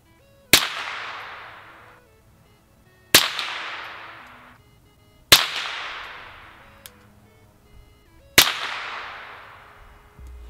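Four sharp suppressed .22 rifle shots with 30-grain bullets ring out, evenly spaced a few seconds apart, each a crisp crack followed by a fading echo.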